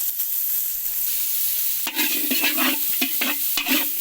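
Garlic, onion, chilli and lemongrass sauté in hot oil, a constant bright sizzle joined midway by clattering stirring strokes, close and fairly loud with no talking.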